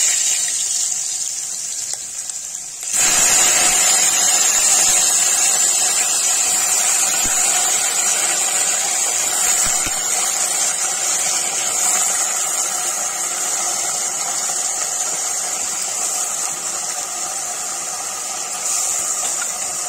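Kashmiri nadru (lotus stem) and potatoes drop into hot oil in a pressure cooker, bursting into a loud, steady sizzling hiss after a few quiet seconds and frying continuously without talk.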